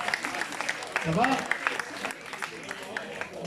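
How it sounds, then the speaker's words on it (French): Spectators clap for a driver at a soapbox cart race, with a short burst of applause under a voice speaking over it and crowd noise around. "On l'applaudit bien fort"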